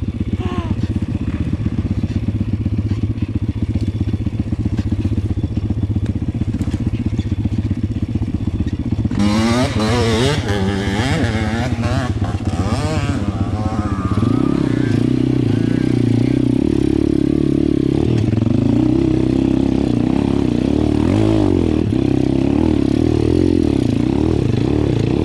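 A small enduro motorcycle engine idles steadily, then revs up sharply in a burst of rising whines, settling into a louder, rougher running note that continues to the end.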